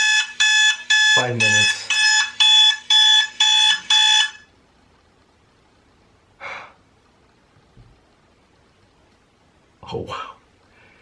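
An alarm clock rings in eight loud, evenly spaced electronic beep bursts, then stops. A gasp and a few spoken words follow in the quiet afterward.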